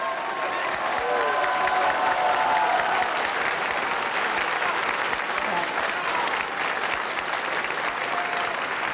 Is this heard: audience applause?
yes